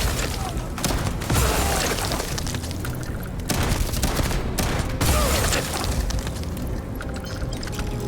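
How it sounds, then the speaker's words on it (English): Starfield role-play combat with a shotgun firing, heavy booming blasts and bursts of gunfire in quick succession amid loud game noise, fairly close and dense throughout. "One shotgun to the face."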